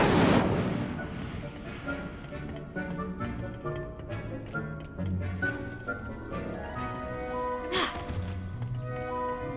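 A sharp whoosh of Incendio flame cast in Hogwarts Legacy opens loudly, then gives way to softer crackling and game music with a second flare near the end.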